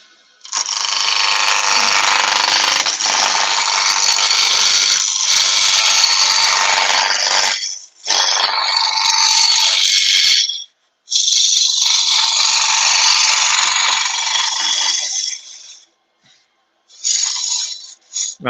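Skew chisel roughing out a wood spindle on a lathe, giving a loud, continuous rattling scrape in long bursts that break off with short pauses and then resume.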